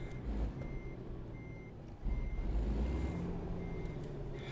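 Regular reversing beeps from a truck in American Truck Simulator repeat at a steady interval over a loud, continuous diesel engine rumble, with no talking.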